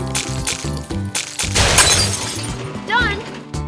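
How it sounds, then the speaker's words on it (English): Ice shattering as a cartoon excavator's bucket cuts into it, a loud bright crash and crackle over steady background music, with a short squeaky cartoon effect following. "It tries to cut the ice with its bucket."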